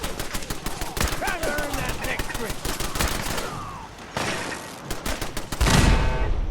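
Turret gunfire in the video game Fallout 4: rapid, steady machine-gun bursts, loud and sustained, with a brief pause before a heavy blast near the end and occasional talk underneath.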